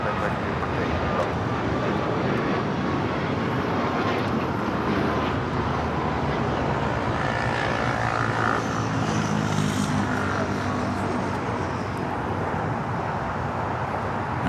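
A British Airways jet roars steadily at Los Angeles airport on the south side, a broad continuous engine rumble that stays loud throughout.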